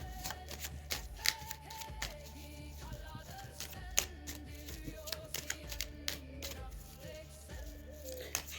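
Tarot cards are shuffled by hand in steady riffling bursts with sharp flicks, close and fairly quiet over a low background hum, with a few soft pitched tones and no talking.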